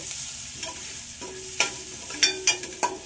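Food fries in a pan on a home stove with a constant hiss of sizzling, broken by a few sharp stirring scrapes near the end.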